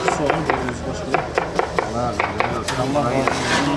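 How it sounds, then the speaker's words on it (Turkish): Onions are chopped on a board in a busy kitchen cooking meals for earthquake relief in Kahramanmaraş, with fast, irregular knife knocks under steady background talk. "Şu anda soğan doğruyoruz"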